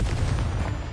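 Fiery spell blast from the Confringo curse in Hogwarts Legacy, a dense loud burst of low rumbling energy filling the whole moment, close and sustained without any voices.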